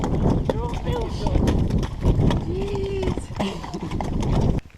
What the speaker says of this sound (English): Horse gallops followed the track on both sides, and I was often passed by riders in training.